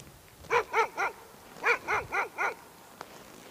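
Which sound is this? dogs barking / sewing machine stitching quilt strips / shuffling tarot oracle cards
dogs barking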